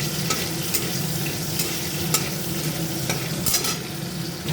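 Black cumin and green chilli spluttering in hot oil in a wok, a dense continuous sizzle with scattered sharp pops and crackles, close and steady, no voices.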